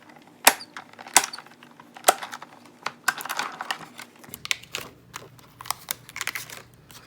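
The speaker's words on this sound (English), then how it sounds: "now we'll cut out a shape to put our sentiment in" Cardstock shape is cut out close by, a series of sharp snips and clicks in irregular bursts, fairly crisp, with no talking.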